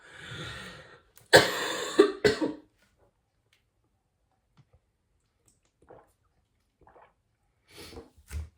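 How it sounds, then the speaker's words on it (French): A woman who is a little ill coughs in a few sharp, close bursts, followed by near silence with only faint breaths and small movements. "ça vient réveiller un petit peu cette toux qui n'est pas très agréable"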